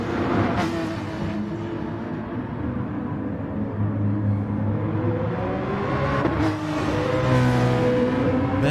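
A BMW race car on lap one of a race, its engine droning and revving steadily throughout, with harmonic pitch shifts as it accelerates, close and loud with no talk over it.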